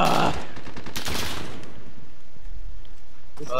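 Rapid automatic gunfire comes from a shooter video game, with two loud bursts of shots close together followed by quieter rattling and a faint shot at the end.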